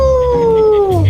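A wolf howl sound effect in a radio commercial: one loud, drawn-out howl that slides gradually downward in pitch, filling the moment alone.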